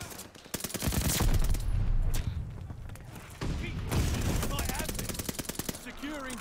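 Rapid bursts of automatic gunfire rattle loudly and continuously in Call of Duty: Vanguard, with dense rhythmic shots, short pauses, heavy thumps and game voices mixed in.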